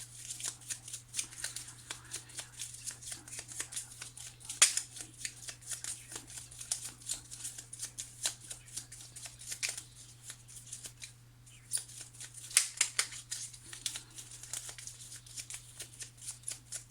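Tarot cards are shuffled for a reading in a quiet room, giving a steady run of soft, close riffling and flicking with occasional sharper slaps over a low constant hum.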